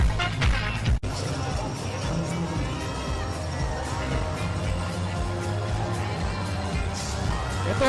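A Christmas Day crowd of close to 19,000 basketball fans roars through a Ginebra versus Purefoods game in an arena, a dense, steady wall of cheering and shouting that holds for the whole stretch.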